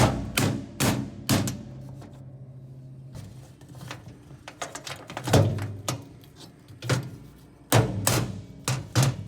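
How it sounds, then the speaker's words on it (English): Hammer blows on a wooden block driving chain links together while assembling a Loyal 23 bushel spreader apron chain, sharp loud knocks in irregular clusters with pauses between. "Hammer links together and repeat for the other side."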